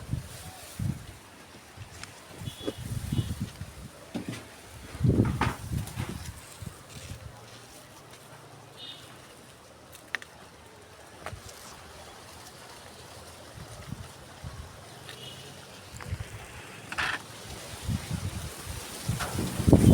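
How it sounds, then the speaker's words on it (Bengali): Strong morning wind gusting through a garden, a broad rushing noise with heavy low buffeting bursts that rise and fall across the stretch. "এইরকম বাতাস উঠছে বাপরে ঝড় উঠছে এই সকাল সাত সকালে"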